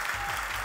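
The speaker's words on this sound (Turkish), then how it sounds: "alkışlarınız devam ede dursun" An audience at a media event aboard a cruise ship applauds in a dense, steady wash of clapping that runs unbroken through the short moment.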